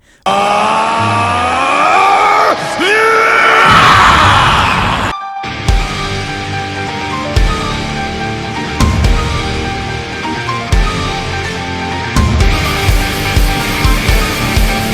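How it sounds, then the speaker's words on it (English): Vegeta from the Dragon Ball animation screams in rage: a loud, strained, rising cry for about four seconds, then an abrupt cut into a pounding dramatic score with repeated heavy hits. "Hearing that got Vegeta really angry, as he went and screamed."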